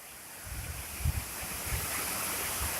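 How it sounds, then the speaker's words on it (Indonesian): Efrata waterfall at Dolok Samosir, heard as a steady, broad rushing of falling water mixed with some wind buffeting on the microphone, fairly faint and continuous with a few low thumps. "Tuh, air terjun itu."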